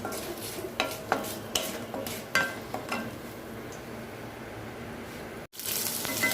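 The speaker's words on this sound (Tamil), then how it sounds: "சென்னா ஆட் பண்ணோன்னா அது நல்லா கொஞ்சம் எண்ணெயில் நல்லா வதங்கட்டும் கொஞ்சம் நேரம்." White chickpeas, sprouted for a day, sautéing in oil in a pan for sundal, with a soft steady sizzle and several scraping stirs near the start, heard close and fairly quiet.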